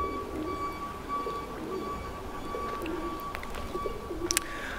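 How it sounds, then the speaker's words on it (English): Soft pigeon coos drift over a steady outdoor background beside the Hogsmill River, low and rounded calls, with a couple of brief higher chirps near the end. "I hear lots of pigeons, can you hear them?"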